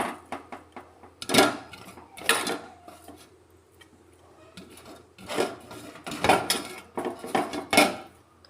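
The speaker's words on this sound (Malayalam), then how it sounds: "ഒരു കൈ കൊണ്ട് ബീട്രൂട്ട് വാരിയിടുന്നു" Chopped beetroot is scooped by hand into a kadai pan for beetroot thoran, giving repeated close scraping and clattering bursts, some loud and some softer, separated by brief quiet gaps.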